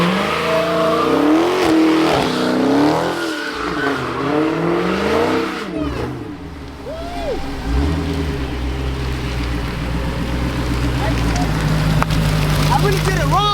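A Dodge Hellcat engine revs hard and swings up and down in pitch while the car spins and slides, loud and close, with voices talking over the roaring engine.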